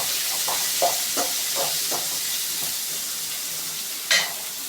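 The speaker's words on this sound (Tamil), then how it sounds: "இப்போ அடுத்தது தக்காளி போட்டு வதக்கிக்கலாம்." Tomatoes sautéing in a hot pan for Maggi noodles: a steady frying sizzle punctuated by about eight distinct spatula stirs and scrapes, with one sharper metallic clink near the end, close and unaccompanied by talk.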